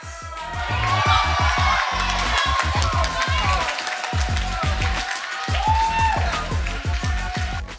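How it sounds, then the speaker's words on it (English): A crowd of mostly Labour-supporting students reacts as Jeremy Corbyn's seat is called, with loud cheering, shouting and rhythmic clapping close by, and voices calling out over the din. "Let's see the reactions from this crowd here."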